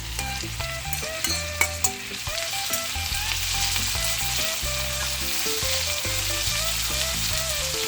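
Tomato and green pepper hitting hot oil in a pan give a loud, steady sizzle, joined by a few sharp clinks of a utensil early on and some background musical tones.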